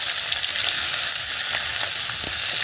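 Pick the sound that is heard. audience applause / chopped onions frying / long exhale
chopped onions frying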